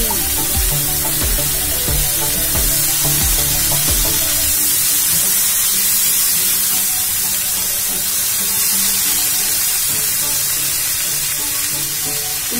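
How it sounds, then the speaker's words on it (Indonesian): Grated coconut being stirred into a palm sugar seasoning in a pan, giving a steady sizzle with soft scraping and clinking of the spoon, continuous and close with no talk. "masukkan kelapa parutnya dan aduk kembali"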